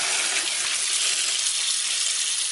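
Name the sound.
filling pressure cooker with water at sink tap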